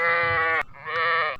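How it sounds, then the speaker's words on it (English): A goat bleats twice in a row, a long, loud, wavering call followed after a short gap by a second similar bleat, close and clear with no other sounds. "Goat,"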